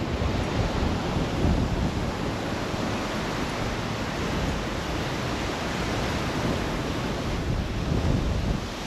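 Surf and strong wind on Cabarete beach in the Dominican Republic roar as a dense, steady, loud wash, with wind buffeting the microphone throughout and no voices.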